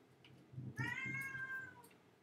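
A single drawn-out cat meow, fairly quiet and close, with faint background hiss.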